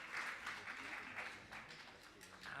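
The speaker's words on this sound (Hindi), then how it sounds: "आप लोग क्या ताली नहीं बजाना है?" Audience applause at a Jain religious gathering, a continuous muffled patter of many hands clapping, faint and somewhat distant, with a few brief surges in loudness.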